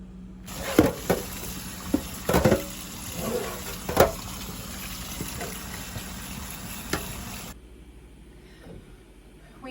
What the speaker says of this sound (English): open up all these packages, the water, and rinse it off